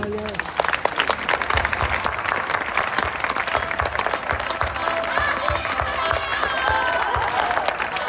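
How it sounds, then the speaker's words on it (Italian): Audience applause greeting a guest at a regional radio special, steady loud clapping from a crowd with some voices mixed in, continuing throughout. "Accogliamola con un grande applauso"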